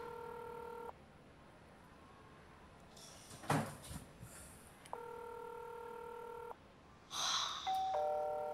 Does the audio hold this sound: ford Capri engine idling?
no